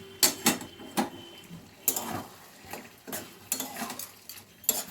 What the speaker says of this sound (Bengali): ধনে পাতাটা নাড়িয়ে চাড়িয়ে নিলাম